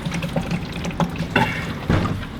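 Liquid pours and trickles into a campervan's fresh-water tank as cleaning solution is added to flush the system, a steady wet splashing with a few brief gurgling surges, close by and alone.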